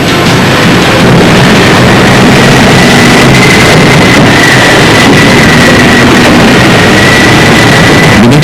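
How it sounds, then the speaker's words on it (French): Turbocharged six-cylinder Cummins diesel engine, rated at 243 kW, powering a Liebherr machine fitted with a ROPS/FOPS protective cab, runs loud and steady throughout, with a constant low rumble and a faint high whine on top. "Le moteur thermique est un moteur Cummins 6 cylindres turbochargé, développant 243 kW"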